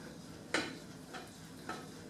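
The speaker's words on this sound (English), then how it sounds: "you're going to mix the butter into the pasta so that it's" Butter is stirred into cooked pasta in a pot off the heat, making three faint, soft scraping strokes spaced about half a second apart against a low background hiss.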